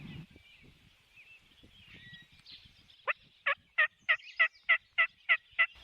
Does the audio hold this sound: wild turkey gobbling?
yes